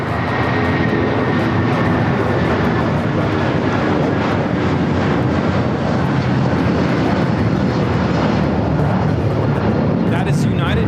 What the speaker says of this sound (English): That is United Airlines 2113 taking off to Chicago on the 757-300